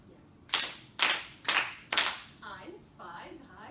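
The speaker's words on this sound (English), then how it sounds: "Die ganze Klasse applaudiert" A whole classroom of students claps four times in unison, four crisp, evenly spaced bursts of applause, followed by a brief murmur of voices.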